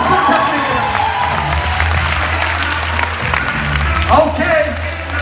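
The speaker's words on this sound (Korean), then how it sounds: "정말 평창 동계올림픽보다 재밌었던 이 배틀 박수 한번 주세요" Crowd at a Korean breakdance battle final applauding, dense sustained clapping with some cheering, loud and close, while an MC talks over it.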